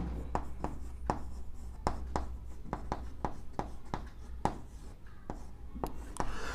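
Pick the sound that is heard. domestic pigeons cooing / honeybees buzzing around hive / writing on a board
writing on a board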